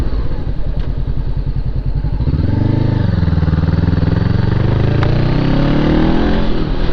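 Motorcycle engine heard from the rider's position while riding, a lumpy low idle-like pulse that rises into a strong, climbing rev as the bike accelerates, loud and close, with wind noise and no talking.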